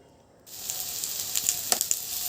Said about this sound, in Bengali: আলুগুলো দিয়ে আবারও মশলার সঙ্গে ভালো করে ভেজে নেব